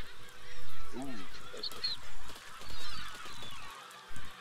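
Goose-like honking from birds in the physics building game Besiege, several short nasal honks scattered through the stretch, mixed with game noise and someone talking briefly over them.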